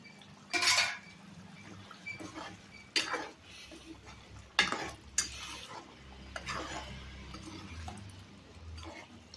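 Boiled egg gravy cooking in a pan, stirred with a metal spoon that scrapes and clinks in several separate bursts over a low background hiss.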